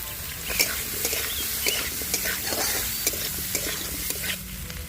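Onion and capsicum frying in oil with chilli powder, a steady close crackling sizzle broken by quick repeated stirring scrapes and light taps against the pan, no speech.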